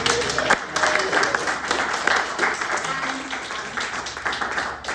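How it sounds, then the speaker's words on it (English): Audience applause fills a small, warm room at a Benton County recycling presentation, a steady dense patter of clapping hands lasting throughout, with some voices mixed in. "Let's give a round of applause for this."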